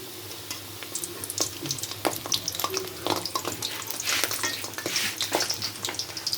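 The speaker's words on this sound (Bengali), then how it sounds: "এখন সিঙ্গারাগুলো ছেড়ে দিচ্ছি, কারণ সিঙ্গারা আবার কম জালে ভাজতে হয়" Singaras deep-frying in oil over low heat, a steady bubbling sizzle with soft crackles and occasional stirring clinks, close and moderately quiet throughout.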